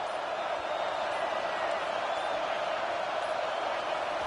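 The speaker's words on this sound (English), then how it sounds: "The roar of the crowd trying to fuel this defense to keep them pinned in their own end." Stadium crowd in the video game College Football 25 roars steadily throughout, a dense, even wash of cheering noise at constant loudness with no pauses.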